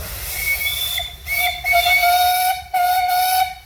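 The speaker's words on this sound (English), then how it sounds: "I think you got one little whistle up there, right?" A steam engine blows its whistle at a steam engine parade, a steady tonal note with a few short breaks and restarts, loud and fairly close.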